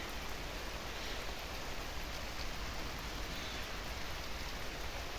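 Steady rain falls across a flower garden with phlox, a dense, even hiss of drops that continues without a break and with no voices.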